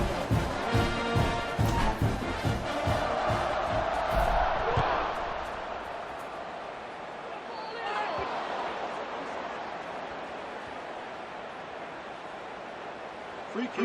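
Large football stadium crowd roaring and cheering before a kickoff, a loud sustained wash of many voices that swells and then eases into steadier background noise.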